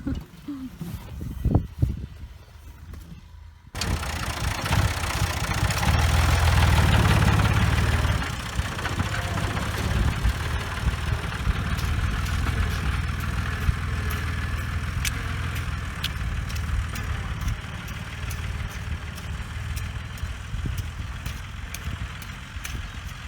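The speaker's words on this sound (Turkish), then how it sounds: "traktörü ele geçirdim" A farm tractor's engine idles steadily in a field, a continuous low mechanical rumble with faint knocking that starts abruptly after a few seconds of quieter outdoor sound and runs on, with voices talking over it at times.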